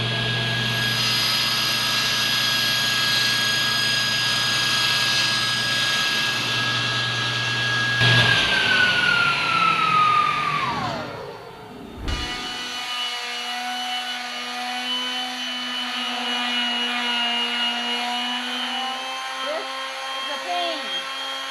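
A power saw whines steadily as it cuts a wooden cabinet door to height, then the blade pitch drops and spins down before a lower motor hum carries on alone.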